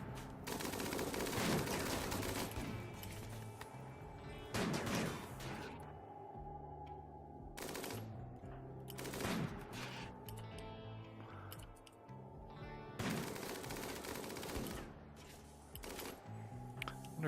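Gunfire in the Rimworld video game battle, repeated bursts of rapid shots and fusillades over a steady game music bed, moderately loud with brief pauses between volleys.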